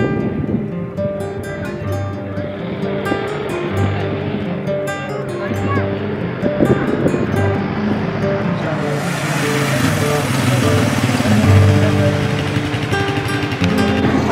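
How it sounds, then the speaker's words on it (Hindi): An ATV sand bike engine drones on the Nubra Valley sand track, a rough, continuous motor noise that swells louder as the bike approaches, heard under steady talking. "ये देखिए बाइक आ रही है"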